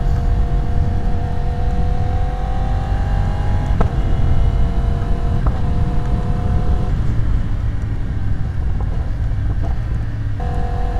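A Yamaha R1 motorcycle accelerates hard through the gears during a wheelie control test at traction setting 3, its engine note climbing and then dropping with each shift, loud and close under heavy wind rush.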